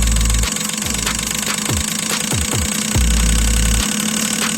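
BMW 116 direct-injection engine revving up and down during injector cleaning, a close, loud mechanical hum with repeated rising and falling rev sweeps and a steady knocking idle between them.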